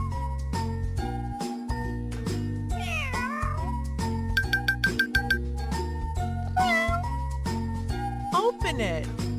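Cartoon kitten meowing in a children's pet care video game, several mewing calls over looping background music with bright jingling chimes.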